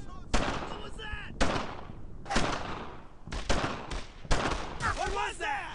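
Gunfire from the World War II shooter game Brothers in Arms: Earned in Blood comes in repeated loud bursts of rifle and machine-gun shots, with short gaps between them. Shouted soldier dialogue from the game can be heard through the firing.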